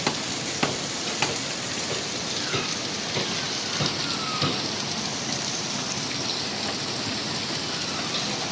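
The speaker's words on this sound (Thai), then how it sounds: "นี่นะครับฝนตกหนักแล้วนะครับ" Heavy rain falls in a dense, steady roar near a fishing boat up on a slipway for repairs, with occasional sharper drips and knocks cutting through, loud and continuous without talk.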